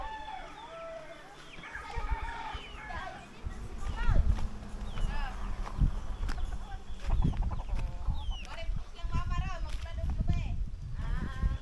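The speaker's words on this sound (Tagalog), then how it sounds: "Manok." Chickens in a rural yard where people fetch water, with scattered clucks and short calls mixed with thumps and handling noise, while people talk throughout.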